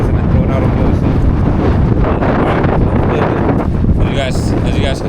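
Strong gusting wind buffeting the microphone beside a heavy-haul RGN trailer loaded with crane track, a loud continuous roar throughout with some talking mixed in.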